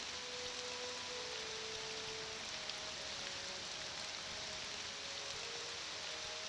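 Steady rain falls in the Tamriel Rebuilt game world, an even, soft hiss of drops on surfaces running unbroken and fairly quiet, with faint tonal music lines beneath and no speech.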